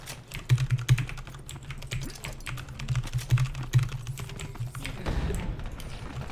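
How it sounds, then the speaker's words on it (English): Computer keyboard typing during a video game session, a steady run of fast, close, clicky keystrokes with a low game rumble underneath. "I was typing and Kevin found me."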